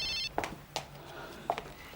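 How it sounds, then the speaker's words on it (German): A mobile phone rings in a quiet indoor scene, with a brief electronic ring tone at the start followed by sparse, sharp chirps separated by near silence. "Na nu, das ist doch Arnos Handy"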